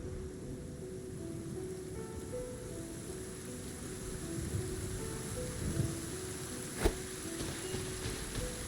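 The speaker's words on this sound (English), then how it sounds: "Taking a stroll in the middle of a downpour certainly rouses the spirit" Steady rain downpour in the game Genshin Impact, a dense, continuous hiss of falling water with a faint tonal drone underneath and a brief sharp crack near the end.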